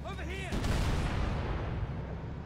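Scorpion tank cannon shots in Halo: Combat Evolved, a heavy booming blast after a brief sweeping tone, followed by a long rumbling decay, with a voice speaking over it.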